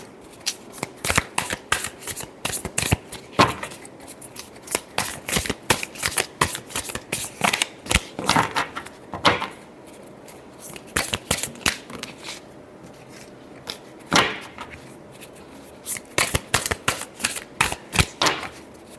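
Tarot cards being shuffled over and over, a dense run of crisp riffling flicks and soft slaps close up, with brief pauses between bursts and no talking.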